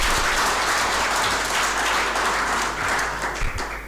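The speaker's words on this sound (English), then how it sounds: "A big round of applause for all these 15." An audience at a NICAT leaders meetup gives a steady round of applause for 15 startups, a dense wash of many hands clapping that holds level throughout and only begins to thin at the very end.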